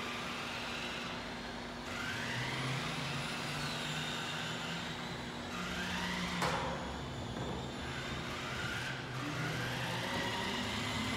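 Rally-style RC car at the Delta RC Raceway whines around the track, its motor pitch rising and falling with each pass under steady outdoor background noise.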